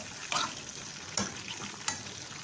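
Onions and garlic sauté in butter in a pan, a steady close sizzle broken by four stirring scrapes at even intervals, with no one talking.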